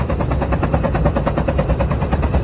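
A helicopter in the video game Call of Duty Mobile gives a loud, steady rotor chop with rapid rhythmic beating, close and continuous over brief game noise.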